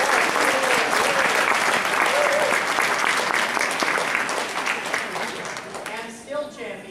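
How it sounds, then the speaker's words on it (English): An audience at a Tuba Christmas concert gives a full round of applause that holds steady for about five seconds, then thins out as a few voices and scattered claps linger. "Let's give a round of applause to Walt Fry."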